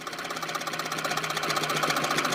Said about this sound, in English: I'm just going to start stitching up at the edge and do all the way to the end